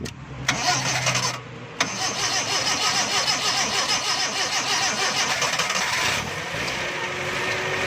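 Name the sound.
Toyota Corolla 12-valve 1300cc engine starting with starter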